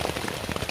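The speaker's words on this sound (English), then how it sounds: "it's still been raining" Heavy rain in the woods drums on a Luxe sil hexpeak V4 tent, a dense, close patter of drops with no break and no voices.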